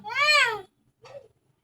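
A cat gives one long, loud meow followed by a shorter, softer meow, close by with no talking.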